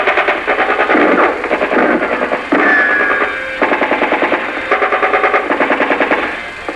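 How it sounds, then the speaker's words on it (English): Machine gun suppressive fire from crew-served weapons in a vintage US Army training film: long, loud rhythmic bursts of rapid automatic fire with short pauses between them, on an old, narrow-sounding soundtrack. "the crew served weapons, which have been displaced to the first squad's overwatch position, are placing suppressive fires on the enemy"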